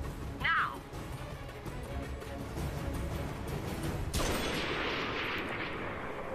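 Gunfire in the video game 007 Legends on Wii U: a loud sustained burst of shots and crashing impacts under a dense game soundscape, with a brief whistling sound early on.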